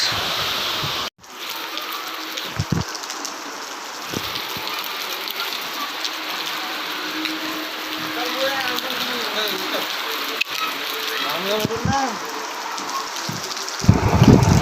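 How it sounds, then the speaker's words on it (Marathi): Steady village rain patters and hisses on surfaces, with occasional drips and splashes, lasting throughout at a moderate, even level. "तर हे आहे गावाकडचा पाऊस."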